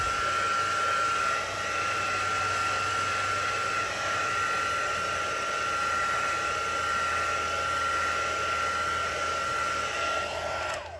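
A heat tool drying black and gray ink on a stamped card with a masked coneflower design blows a steady, loud whooshing hiss with a high whine, running continuously for about eleven seconds before cutting off.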